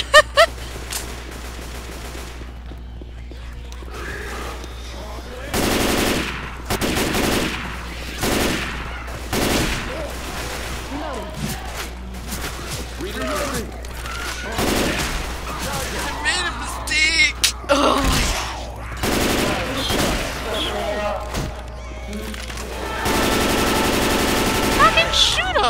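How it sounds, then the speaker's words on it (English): Repeated bursts of automatic gunfire in Left 4 Dead 2 on the Dead Center expert campaign, loud and close, in irregular volleys across the stretch with players talking between and over the shots. "I love doing the like shooting shit in the butt until it dies"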